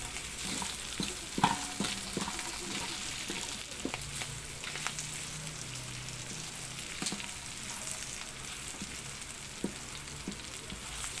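Sliced bologna fries in oil in a pan while pancit bihon is prepared, a steady close sizzle with occasional stirring and scraping clicks throughout.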